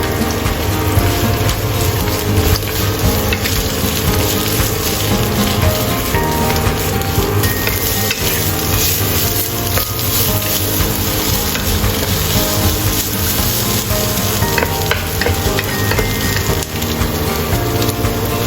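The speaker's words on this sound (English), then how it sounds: "Stir fry onion until translucent." Onion stir frying in a pan until translucent gives a loud, continuous sizzle with stirring scrapes, steady throughout and alone, with no talk.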